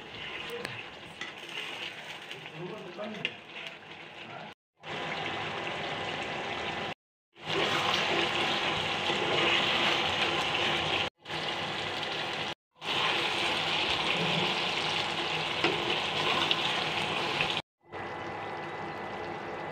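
Chicken kala bhuna with its special spice mix is stirred around a pan, giving bursts of scraping and sizzling noise. The bursts are split into several short segments by abrupt silent cuts.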